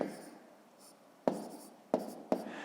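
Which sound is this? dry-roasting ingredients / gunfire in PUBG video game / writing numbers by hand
writing numbers by hand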